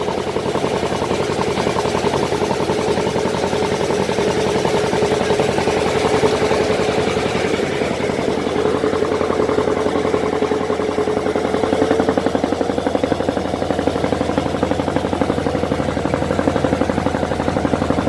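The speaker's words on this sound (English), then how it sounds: "Must be a twin engine." Twin-engine tour boat running steadily off Karimunjawa island, a continuous droning engine hum with propeller churn that holds level throughout, close and fairly loud with no talking.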